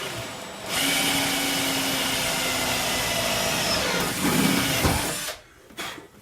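A power drill bores holes into a Datsun 280ZX body for fender flares, a continuous loud whine running for several seconds, then shifting pitch before cutting out, followed by brief clatter.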